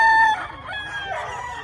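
Roosters at a crowded chicken market, one crowing loudly at the start and then fading into a blend of crows and clucks from several birds nearby.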